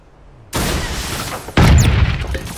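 Gunfire in the mecha battle game Super Mecha Champions: after a quiet start, a loud burst of shooting kicks in, then a heavier, booming volley follows, dense and close.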